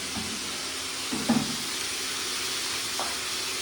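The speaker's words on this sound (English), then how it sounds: "Making the onion browning, you can add little salt." Onions browning in a pan give a steady, close sizzling hiss with a few faint utensil knocks and stirs over it.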